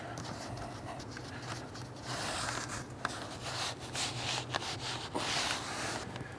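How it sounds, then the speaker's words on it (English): Hands rub BedRug molded carpet liner pieces down inside the bed of a GMC 2500 pickup so they stick, giving a steady close brushing and scuffing texture with a few light knocks. "go ahead and just rub those down real good so they stick real well"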